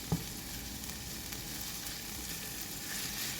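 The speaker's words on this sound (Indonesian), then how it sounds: "Masak dagingnya sampai berubah warna kecoklatan seperti ini" Minced beef or chicken frying in a pan, pressed and stirred to break up lumps while it browns, with a steady soft sizzle and one brief scrape near the start.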